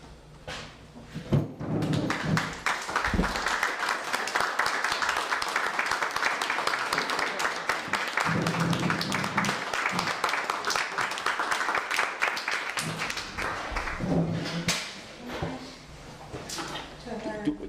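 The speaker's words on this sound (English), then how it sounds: "I'd like a round of applause for these people and for their dedication" Applause from a crowd at a fire district annual meeting, sustained for most of the stretch with thumps and shuffling as people stand, and voices talking over it near the end.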